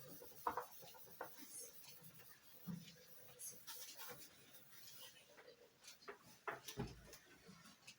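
Pen or marker writing out a determinant calculation in a math lesson, with faint scratchy strokes and occasional taps and bumps spread irregularly across a quiet background.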